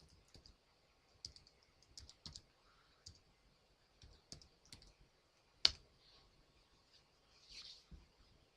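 Scattered keystrokes on a computer keyboard while a command is entered, quiet, irregular clicks in short bursts with pauses between them and one sharper, louder tap near the middle.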